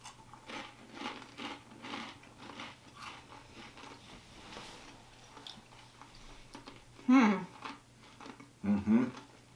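Quiet, scattered crisp crunches from biting and chewing crunchy snack rings, with two louder crunchy bites near the end.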